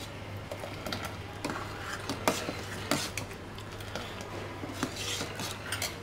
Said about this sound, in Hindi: और ये कंडेंस मिल्क। अब इसको अच्छी तरह मिक्स कर लेंगे।